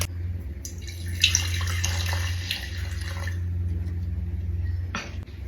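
Acetone pours into a jar to soak old dried acrylic paint brushes, a steady close liquid splash and trickle over a low background hum, ending with a brief clink.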